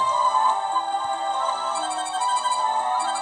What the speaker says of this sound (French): Ah, mon téléphone sonne.